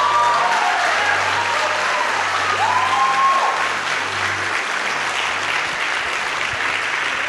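An audience at a Christian prayer conference applauds, a loud, sustained wash of clapping that fills the space and then slowly thins out.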